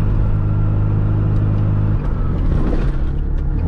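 A Chatenet CH46-R licence-free microcar drives with a loud, steady engine drone and road rumble, then the engine note drops as it brakes partway through.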